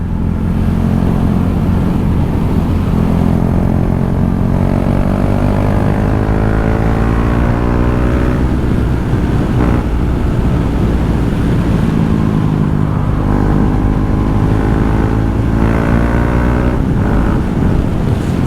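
KTM 390 Duke motorcycle engine revving during a ride: a loud, continuous single-cylinder drone rising and falling in pitch through gear changes, with steady wind rush, close and unbroken, no talking.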